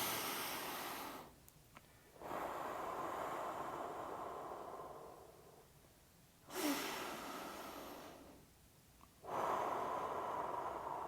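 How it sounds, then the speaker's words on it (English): Deep breaths drawn in and let out through the nose during a recovery pause in an ankle mobility stretching session: several long, airy inhales and exhales in a slow rhythm, close up and alone. "Get a couple of nice deep breaths through the nose."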